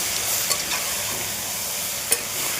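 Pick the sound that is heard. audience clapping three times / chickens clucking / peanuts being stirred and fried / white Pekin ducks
peanuts being stirred and fried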